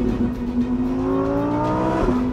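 A Lamborghini Huracan Evo Spyder in sport mode holds a loud, close engine drone whose pitch climbs steadily as it revs, then drops abruptly near the end before settling again.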